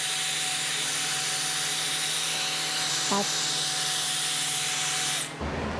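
A pad rubbing wax onto the paint of a 1966 Suzuki Bearcat motorcycle, a steady close swishing rub under a constant background hum, ending abruptly, no talk.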